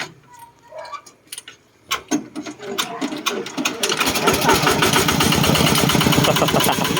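A homemade tractor engine is cranked with a few sputters, then catches and settles into a loud, rapid, rattling chug that runs steadily to the end.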